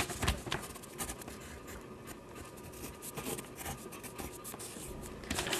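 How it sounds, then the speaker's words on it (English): A pencil drawing on a piece of paper on a desk gives quiet, irregular scratching and rubbing strokes, close by and soft, with no talk. "I have a pencil on my desk. And I've got a piece of paper. So I'm gonna draw a picture for you."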